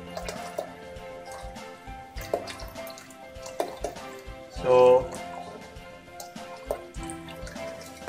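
Water poured into a model dam tank, trickling and dripping in intermittent splashes with a brief louder gush midway, while someone talks over it.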